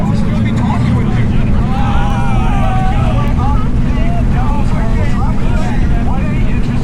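Jet boat ride through the whirlpool rapids at Niagara Falls, with a loud, steady engine and water roar plus wind buffeting across the whole stretch and faint voices beneath.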